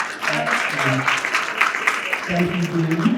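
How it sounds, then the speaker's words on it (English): Round of applause from the audience at a small business showcase and entrepreneur awards reception, honoring Fitchburg Mayor Dean Mazzarella: a steady, moderately loud wash of clapping throughout, with a voice speaking over it. "so we'll give him a round of applause now."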